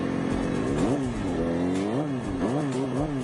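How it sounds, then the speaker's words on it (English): A motorcycle engine revs sharply as the clutch is popped for a wheelie, rising and falling pitch sweeps in several quick bursts, loud and close. "you're going to be able to hear the RPMs race up as he does."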